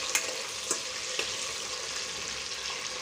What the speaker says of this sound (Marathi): मी इथे टाकत आहे लवंग काळे मिरे टाकत आहे इलायची शेंगदाणे